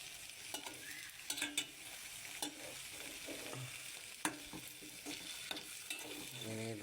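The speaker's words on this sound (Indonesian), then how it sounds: "Nah, jadi kita oseng-oseng ya." Ingredients for a Bangka massage oil sizzling and being stirred in a pan over medium heat, a soft steady fry broken by scattered scrapes and knocks of the utensil against the pan.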